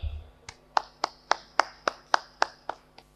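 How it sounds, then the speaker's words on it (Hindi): Hand claps ring out in a steady, evenly spaced series of about nine sharp strikes. The claps are close and distinct, like one or a few people clapping rather than a crowd, as a Samajwadi Party spokesperson is welcomed onto a stage. "और अब जोरदार तालियों के साथ मंच पर स्वागत कीजिए समाजवादी पार्टी के प्रवक्ता श्री गौरव चाचरा जी का"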